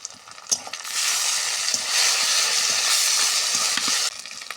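Ginger-garlic paste and tomato are added to fried onions in a hot pan, giving a loud, steady sizzle with a few sharp clicks of stirring, close by and without talk.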